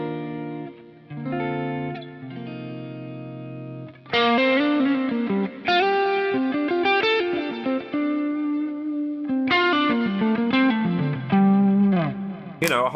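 Electric guitar played through a Kernom Ridge overdrive pedal, with driven chords and melodic lead phrases ringing out loud and close, a brief pause, then more overdriven playing with sustained notes, no talking over it.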